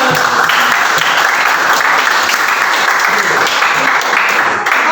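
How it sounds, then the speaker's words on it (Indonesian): An audience breaks into sustained, loud applause in a classroom practice session, a dense even wash of clapping lasting several seconds with faint voices beneath. "Kita berikan tepuk tangan."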